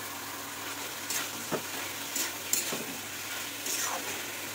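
Banana flower tipped into a hot spice mixture in a home kitchen pan, a soft steady sizzle with a few brief stirring clinks and scrapes, no talking.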